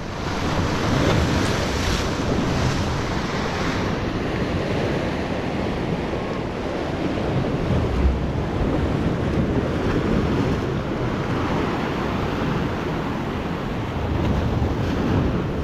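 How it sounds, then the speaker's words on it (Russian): Sea waves crash and wash steadily onto a beach in Turkey, a loud, continuous roaring surf mixed with wind buffeting the microphone, with no talking. "Волны, тихо-тихо."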